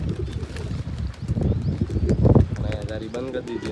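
A flock of pigeons splashing about while bathing, soft cooing and wing flutters heard beneath someone speaking nearby.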